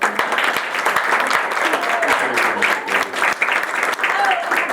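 Applause from an audience welcoming a reverend speaker to the stage, a steady, dense clatter of many hands that fills the room and holds evenly throughout.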